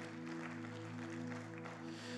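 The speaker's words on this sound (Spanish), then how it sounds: "Puede sentarse dándole un fuerte, fuerte aplauso a ese Rey de gloria." A church congregation claps for the King of glory: faint, distant clapping spread evenly over sustained, steady musical tones, with no speech.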